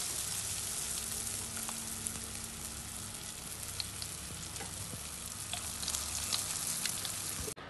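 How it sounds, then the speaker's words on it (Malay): Hot oil sizzles and crackles steadily as cheese spring rolls deep-fry close by, a continuous dense hiss dotted with small pops, with no one speaking. "Lepas tu kita akan goreng dengan minyak yang panas"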